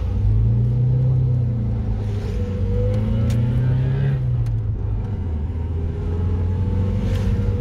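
A car drives along a road in Georgia toward Batumi, heard from inside as a steady, loud low engine rumble and road noise with slowly shifting pitch and no talking.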